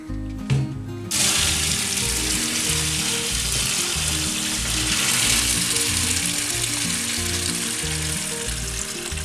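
Black peppercorns stirred in a pot of hot water on a stove give a steady, dense hiss and bubbling that runs throughout, with a low humming tone underneath.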